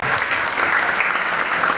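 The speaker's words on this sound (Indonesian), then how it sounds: "tepuk tangan" A roomful of people applauds during a school staff training session, a short, dense and even burst of clapping heard up close throughout.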